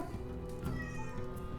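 A person imitating a sad, drawn-out cat meow, one close vocal wail with a falling, mournful tone and no other voices.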